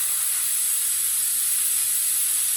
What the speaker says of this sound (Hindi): चूल्हे को मैंने जला लिया।